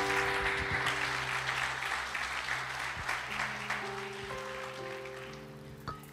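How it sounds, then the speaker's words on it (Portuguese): A church congregation claps together for Jesus during a sermon, giving a dense, steady wash of applause that lasts several seconds and fades slightly toward the end. "Vamos aplaudir ao Senhor Jesus."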